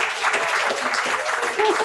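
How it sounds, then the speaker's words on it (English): A morning-session audience at Namaste Village breaks into steady applause right after a musical performance, the claps dense and continuous, with a voice faintly audible beneath the crowd. "We're not supposed to clap, but we can't help it."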